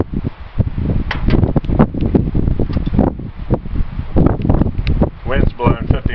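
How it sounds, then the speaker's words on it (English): Strong wind at about 50 mph gusts loudly across the microphone outdoors while an IH 2250 loader boom cylinder is removed, with irregular rumbling bursts and rustle throughout. "Wind's blowing 50 mile an hour."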